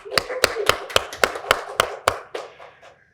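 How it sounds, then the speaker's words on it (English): Audience at a spring college of pharmacy hooding ceremony claps in a scattered, loose rhythm of distinct hand claps, moderately close, fading out after about three seconds. "Huge round of applause for them."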